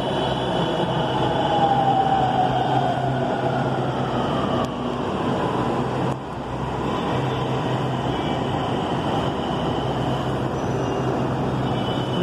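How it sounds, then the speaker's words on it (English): An Aqua Line metro train on the Noida Metro rumbles steadily into a station, its broad mechanical roar holding close and loud with a faint rising whine. "So our train arrives."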